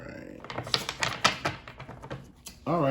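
A tarot deck being shuffled gives a rapid series of papery riffles and taps close by, ending as a voice begins talking.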